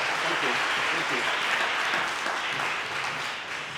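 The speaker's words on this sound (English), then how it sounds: "So let's give everyone a warm round of applause." An audience at a community-led development event claps in a dense, loud, sustained round of applause, steady throughout and easing slightly at the end, with voices faintly mixed in.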